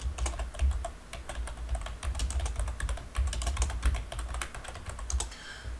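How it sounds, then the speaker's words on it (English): Fingers tap quickly on a computer keyboard, producing a dense run of crisp, close keystroke clicks in uneven bursts with brief pauses, fairly quiet and without talk. "I'm just going to type that in."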